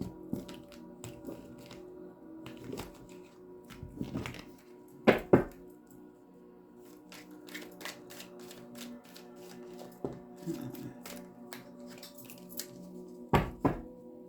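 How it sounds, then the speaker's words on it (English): Tarot cards riffled and shuffled in bursts, with soft flicks, taps and a couple of sharper snaps against a table, close by and fairly quiet. "Get you some good shuffles in."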